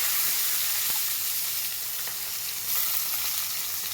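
Potatoes and vegetable stalks hit hot oil with fried cumin and bay leaf, giving a steady, loud sizzle and hiss with a few faint stirring clicks, no talking.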